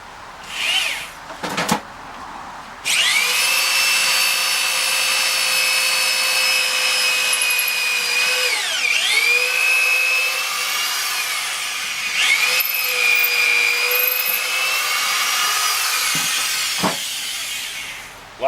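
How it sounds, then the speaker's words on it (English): A corded power drill whines steadily and loudly through wood, its pitch dipping briefly under load twice before running on. "So it's not going to stall out drilling this hole."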